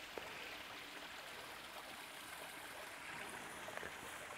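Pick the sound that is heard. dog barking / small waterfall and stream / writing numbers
small waterfall and stream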